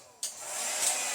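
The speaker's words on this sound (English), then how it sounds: "I got my blow dryer ready." A blow dryer used for acrylic pour painting with Floetrol and titanium white switches on after a brief quiet moment, then runs with a steady, close, rushing airflow.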